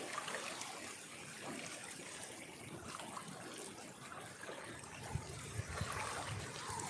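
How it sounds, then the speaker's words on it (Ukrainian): A tiny stream of warm water trickles faintly and steadily, a soft continuous babble at low level with a few small splashes near the end. "Такий малесенький струмочок посередині греб."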